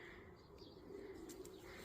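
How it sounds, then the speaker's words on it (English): Birds call in a garden full of mature plants and shrubs, soft cooing and a few brief chirps sounding faint and distant over a quiet outdoor background. "You can hear the birds in the background."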